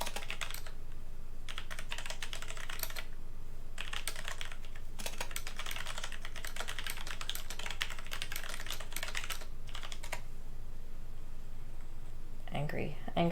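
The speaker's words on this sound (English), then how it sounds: "Angry typing over here. My stupid loud keyboard." Rapid, clattering keystrokes on a loud keyboard come in bursts with brief pauses, close up, with a voice heard faintly at the end.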